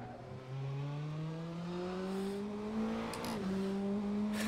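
A turbocharged four-cylinder Praga R1 race car engine at Monza in a sim racing game, droning steadily as revs climb smoothly, with a brief dip like a gear change, loud and continuous with no talking.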